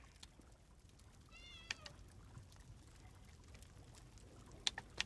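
A cat meows in the video game Elder Scrolls Online, one clear meow followed later by a few short chirps, fairly close over a quiet ambient background.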